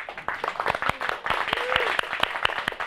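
An audience claps steadily through a songwriters' gathering at a media center, a moderately loud patter of many hands with a voice briefly sounding over it.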